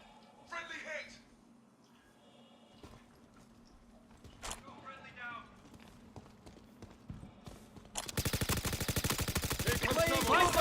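Star Citizen gunfire erupts late as a dense, sustained burst of rapid shots that grows loud and continuous, after stretches of people talking with scattered sharp cracks and thuds.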